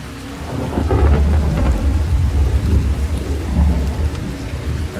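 Steady rain falls with deep rolling thunder rumbling throughout, a continuous loud thunderstorm ambience set in a Minecraft story adventure.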